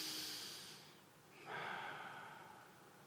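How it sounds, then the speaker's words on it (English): Deep breathing from people in a room during a relaxation exercise, with a long exhale that fades, then a fuller inhale that tapers off, close and soft without talk. "You feel the breathing's better? Breathing nicely."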